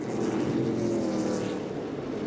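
A NASCAR K&N Pro Series West race car roars loudly and steadily at Meridian Speedway, a continuous engine drone from start to end with no talk.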